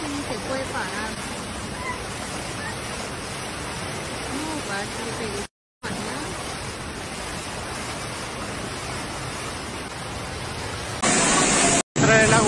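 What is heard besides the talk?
rushing flood water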